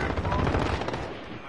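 Rapid gunfire from a Call of Duty match, dense bursts of shots crackling over one another at close range for the whole short stretch, slowly easing off toward the end.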